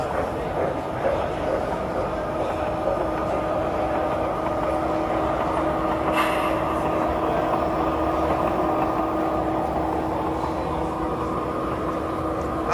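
Large-scale model train sound from a Soundtraxx Blunami decoder, a steady rumbling and humming run with faint clicking, heard in a noisy hobby show hall with crowd murmur behind it.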